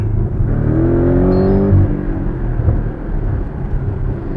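A Porsche 718 Cayman GTS four-cylinder engine rumbles and revs with a deep, throaty tone, rising briefly then settling into a steady growl.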